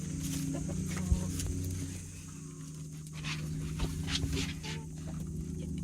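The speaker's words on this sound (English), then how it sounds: "You can hear the chicken scraping." Chickens in a coop clucking repeatedly, with scratching and scraping sounds close by and soft rustling movement throughout.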